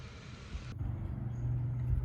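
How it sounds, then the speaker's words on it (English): Low road traffic rumble with vehicles passing at a distance, a steady low drone that rises and swells gradually, with no voices. "It looks like there's quite a bit of traffic"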